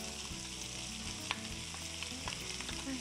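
Smoked pork sausage (paio) for a feijoada fries in a pan with a low, steady sizzle and crackle, punctuated by faint stirring and clinks, quiet and without talk.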